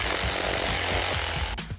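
A tattoo machine powered by a reciprocating linear accessory buzzes loudly and continuously, with a steady high-pitched whine and rapid mechanical rattling throughout.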